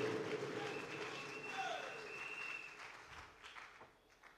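A church congregation applauds and cheers, a sustained wash of clapping and voices that swells and then gradually thins out, heard from a moderate distance.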